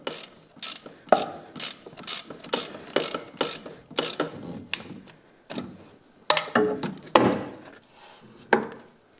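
A socket ratchet with a 13 mm socket loosens the timing belt tensioner pulley on an Opel Astra F/G or Corsa B engine, giving close, crisp bursts of ratcheting clicks in a quick repeating rhythm, a brief pause, then more strokes, with no talk.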